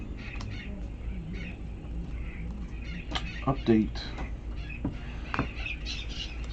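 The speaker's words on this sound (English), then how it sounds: "Even the birds have come out to watch." Birds call outdoors with scattered chirps and clucking notes that come and go over a few seconds, heard beneath a person talking nearby.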